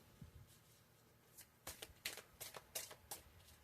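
Tarot cards shuffled by hand close up, a run of quick riffling bursts with a few soft taps between them, fairly quiet with no talk.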